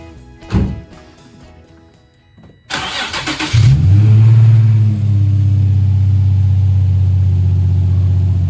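A Nissan 350Z cranks briefly after a nearby clunk, catches and fires up, then settles into a loud, steady, close idle with a slight early rev.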